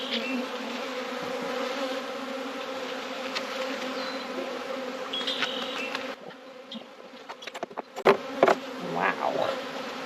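Honeybee colony humming inside an open hive with dead bees on the floor, a steady close buzz that briefly dips and then returns with a few louder knocks and rustles.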